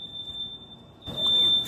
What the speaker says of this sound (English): tell me why my smoke alarm goes off